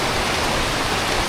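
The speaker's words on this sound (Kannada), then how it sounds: "ಇಲ್ಲಾಂದರೆ ಇಷ್ಟು ಮಳೆ ಒಳಗೆ ಐತಲ್ಲ ನಾವು" Heavy monsoon rain falls steadily on a trek toward the Dudhsagar waterfall near Goa, a dense, unbroken hiss close around with no pauses or voices.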